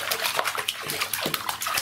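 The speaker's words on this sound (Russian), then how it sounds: "Сплошные брызги." Water splashes and sloshes repeatedly as a Cape monitor lizard strikes at a thawed mouse used as bait, a busy run of close, irregular splashes with no pause.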